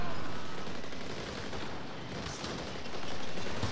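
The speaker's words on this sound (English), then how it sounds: "We gotta stop that gunfire!" Continuous gunfire in the Fast and Furious Crossroads video game, a dense unbroken wash of shots that swells and dips slightly, loud and filling the whole clip with no talk over it.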